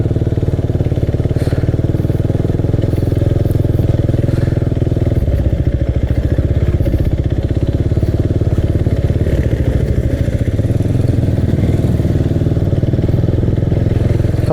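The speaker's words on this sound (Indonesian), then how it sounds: "Kipas motor terus menyala" A motorcycle on a slow, rough road on a hot day idles with its radiator fan running, a loud, close, continuous low engine drone with faint clattering throughout and no speech.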